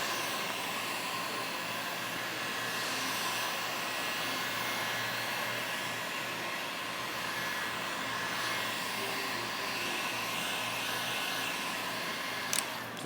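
A heat gun blows steadily while heating vinyl wrap on the trunk of a Hyundai Elantra N, a constant close airy roar and whine that holds without a break, with a small knock near the end.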